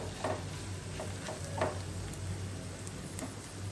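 Taro stems frying in a pan with fish roe, a soft steady sizzle with occasional light stirring taps, faint and close, with no talking.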